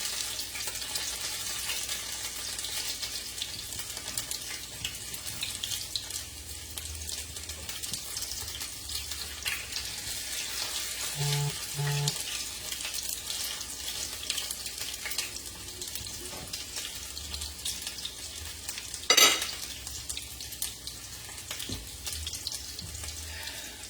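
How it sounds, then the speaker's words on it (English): Steady broadband crackle and hiss of fritters frying in hot oil in a pot, continuous throughout, with a brief louder clink near the end. "my fritters is frying"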